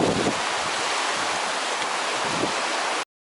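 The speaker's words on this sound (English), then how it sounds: "Just about to enter the Mawddach estuary." Strong wind and surf wash across the Mawddach estuary in Wales, a loud, broadband roar with gusty buffeting against the microphone, continuous for about three seconds before cutting off.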